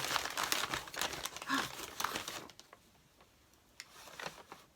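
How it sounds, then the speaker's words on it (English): Crinkly rustling of paper being handled and unwrapped, loud and close at first, then quieter scattered crackles. "So lots of rustling."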